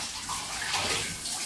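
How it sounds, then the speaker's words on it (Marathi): Water splashes and rushes steadily while freshwater crabs are being scrubbed and washed. The sound is a continuous, close wash with no voices. "अजून चालूच आहे बघा खेकडे साफ करणं"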